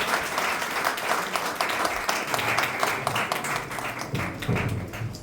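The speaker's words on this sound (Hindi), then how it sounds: "खुदा के जलाल के लिए, खुदा के कलाम के लिए जोरदार ताली।" Congregation at a church sermon breaking into sustained applause, many hands clapping densely and evenly at moderate volume, with a faint voice and low rumble emerging toward the close.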